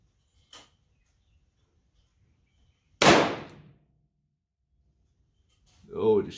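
.357 Magnum revolver loaded with rifle-primed rounds fires a single sharp, loud shot outdoors, with a brief metallic click before it and a voice speaking right after.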